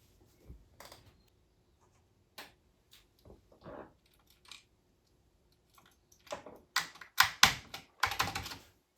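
3D printed keycaps pressed onto Commodore 64 keyboard stems, giving sparse plastic clicks and taps early on, then a denser cluster of sharp snapping clicks near the end.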